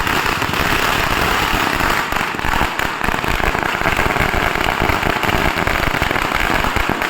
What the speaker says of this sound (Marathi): यवतमाळ येथील भाजपच्या पदाधिकारी व कार्यकर्त्यांनी फटाक्याची आतिषबाजी करत पेढे वाटून जल्लोष साजरा केला